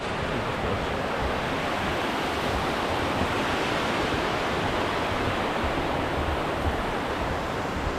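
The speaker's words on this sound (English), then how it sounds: "Another really cool falls, not quite as spectacular as the previous one, but nevertheless it's still a really cool waterfall." Drake Falls, a waterfall on Oregon's Trail of Ten Falls, as a steady broadband rushing roar of falling water heard close and loud, unbroken throughout with no voices.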